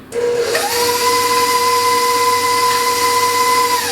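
An electric mixer mixing peanut butter, cream cheese and confectioner's sugar starts up and rises quickly to a steady, loud whining hum that holds constant to the end.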